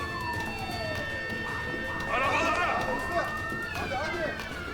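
A police car siren wails through a tense street scene, its rising and falling tone swelling toward the middle as if drawing closer, with hurried voices and footsteps over it.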